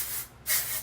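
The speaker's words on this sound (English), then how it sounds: "so I am going to just spray" IGK Beach Club texture spray hisses onto curled hair extensions in two short close bursts, the second louder, with no talk.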